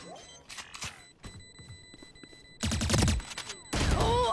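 Gunfire in the tactical shooter Valorant, sounding as two dense bursts of rapid shots near the end, after lighter clicks and brief voice-like sounds earlier.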